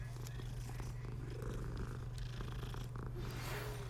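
A cat purring while being petted in the Hogwarts Legacy video game, a steady low continuous rumble held throughout under a faint layer of game ambience.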